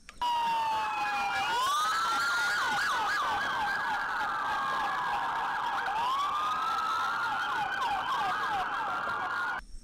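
A toy police car blares a loud, continuous wailing electronic siren that sweeps up and down in pitch, close by, with no talk.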